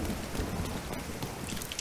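Steady rain falls in the video game The Division 2, a continuous, even hiss of drops and patter filling the scene at moderate level with no pauses or voices.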